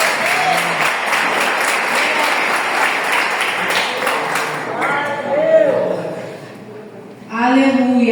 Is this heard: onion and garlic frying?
no